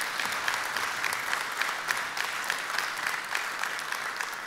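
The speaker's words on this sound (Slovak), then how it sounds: "Ak áno, dovolím si vypýtať ešte jeden potlesk." A hall audience at a city awards ceremony gives dense, steady applause, many hands clapping evenly throughout at moderate distance, with no talking heard.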